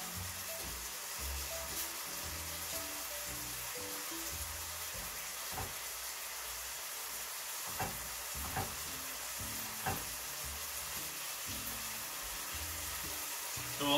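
Taco filling sizzles and fries steadily in a pan, a continuous close hiss with occasional stirring clicks and scrapes, no talking over it.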